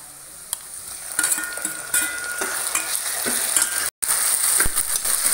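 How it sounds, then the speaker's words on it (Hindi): Spoon stirring tomatoes into golden-brown onion masala in a frying pan for arbi sabzi, with steady sizzling and repeated scraping strokes, loud and close, a brief silent gap midway. "हमने इसमें टमाटर डाल दिया है, अब इसको अच्छे से मिक्स कर देंगे"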